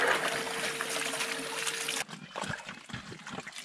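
Water pours steadily through a homemade bucket sluice used for DIY prospecting, with a dense close rush that stops abruptly. Scattered trickles and splashes follow.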